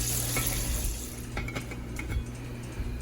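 Bacon frying in a pan, a steady close sizzle with soft crackles and occasional clinks of utensils, no talking.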